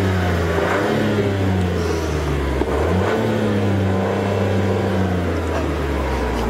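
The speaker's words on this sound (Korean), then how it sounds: "RS 버전인데 배기음 한번 들어봐야죠." Chevrolet Trailblazer RS SUV with a turbocharged engine revving, its exhaust note rising and falling in steady low drones across the whole stretch, loud and close with a brief dip near the middle.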